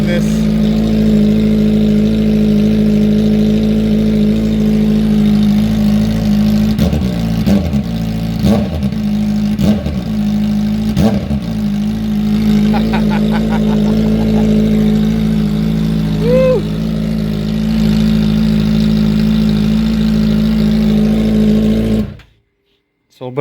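A Kawasaki ZX-4RR motorcycle with its exhaust removed idles loudly and close up, throwing a series of sharp revs in the middle before cutting off abruptly near the end, a voice speaking over it at times.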